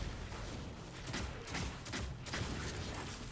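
Weapon fire in the sci-fi shooter Destiny 2: a rapid, muffled burst of gunshots with dull thumps over a dense game soundscape, fairly quiet in the mix.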